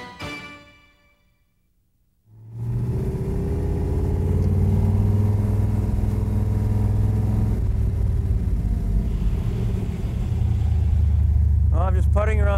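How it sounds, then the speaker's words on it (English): A 1966 Corvette Stingray engine starts with a rumble and settles into a steady low idle and cruising drone, close by, after a short quiet gap, while driving through a neighborhood. "I'm just putting around the neighborhood in this 1966 Corvette Stingray."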